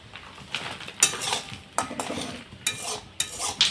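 A spoon stirs and scrapes through hot milk in a metal pot as red caramel is mixed in for homemade sweet curd, with repeated clinking and scraping strokes at close range.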